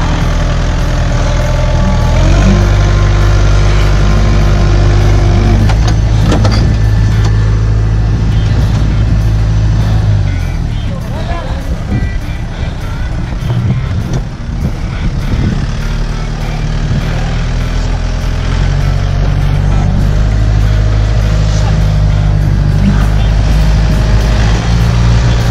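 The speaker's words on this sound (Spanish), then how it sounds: "En el tractor está el señor Fernando Gibson." A tractor engine idles and runs on a dairy farm, a loud, steady low rumble lasting throughout with a slight dip in level midway and no talk over it.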